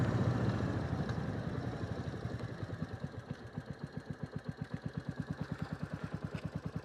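A Royal Enfield motorcycle engine settles into a steady, loping idle, close and fairly quiet, its regular pulsing thump growing clearer after a brief rougher start.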